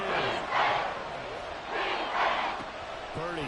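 Simulated stadium crowd in the Madden 24 football video game, swelling cheers and roars rising in two waves during a third-down play, with a voice briefly audible beneath the crowd.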